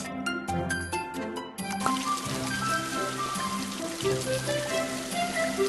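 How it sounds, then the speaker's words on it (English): Tap water runs steadily into a kitchen sink to rinse fresh vegetables, a continuous close splashing wash mixed with light clinks and knocks of produce, behind a tonal bed that may be background music. "Turn on the water and rinse."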